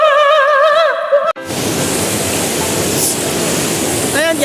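Loud, steady rush of river water fills the scene, broad and constant, with a voice talking over it at the start and again near the end.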